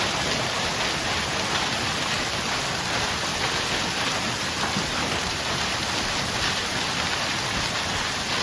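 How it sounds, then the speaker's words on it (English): Dense, steady pattering of tennis-ball-sized hailstones beats on vehicles, a continuous loud hiss with no pauses. "A severe hailstorm hit Canada with hailstones the size of tennis balls, smashing windshields and denting countless vehicles"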